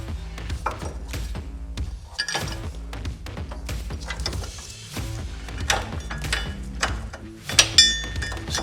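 Ratcheting and metallic clicking of T-bolts being snugged up for a Luverne rear grip step on a RAM ProMaster van frame, with a steady run of ratchet clicks and occasional knocks close by.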